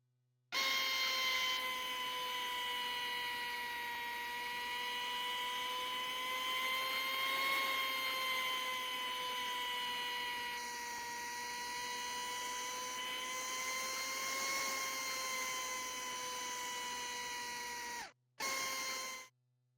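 Surgical saw making a posterior chamfer cut on a femur during a VR knee replacement game: a steady high-pitched whining buzz with sustained tonal harmonics, slight pitch wobbles, then a brief cutoff and short restart near the end.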